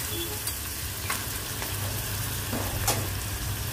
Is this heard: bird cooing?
no